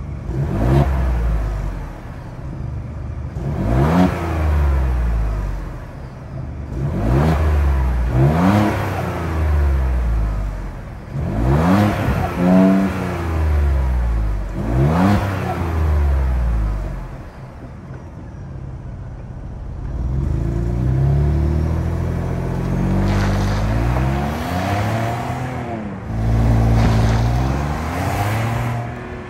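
The 2.7-liter twin-turbo EcoBoost V6 of a 2023 Ford Bronco Outer Banks revs repeatedly, rising and falling in pitch with each throttle blip, loud and close, with a rough idle between revs.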